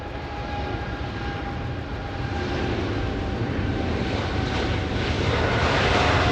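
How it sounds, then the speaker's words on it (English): A Boeing 777 jet roars on takeoff at Los Angeles International Airport, a loud, broad, steady engine rumble that builds slightly toward the end, heard alone with no talk. "We might have a 777 clear the trees."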